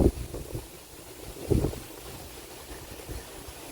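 Wind buffets the microphone in low rumbling gusts in a pepper field, with a louder blast near the start and another midway, over a faint steady hiss.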